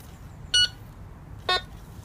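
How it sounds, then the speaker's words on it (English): A Maplin N87KA metal detector gives two short electronic beeps about a second apart, clear and close against a faint background hiss. "It's just basically beeping for no reason whatsoever."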